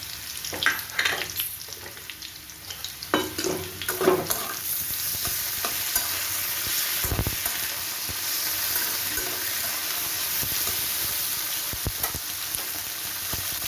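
Tomato stir-fried with already fried potatoes in a pan, with several scraping and tapping stirs over a loud sizzle in the first seconds, then a steady, even frying hiss alone.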